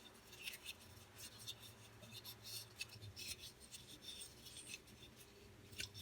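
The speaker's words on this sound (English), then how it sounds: "just kind of hear me moving it around in my hand" A titanium Buck 560 folding knife shifted and turned in the hand gives soft, close rubbing and scraping of grippy metal against skin, faint irregular rasps and brief clicks over quiet room tone.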